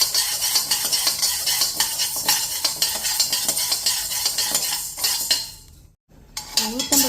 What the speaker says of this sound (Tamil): அதுக்கப்புறம் எள்ளு போட்டுண்டு வரமிளகா போட்டுண்டு வறுத்துக்கணும்.